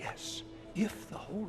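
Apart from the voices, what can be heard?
None of the usual background noises is heard.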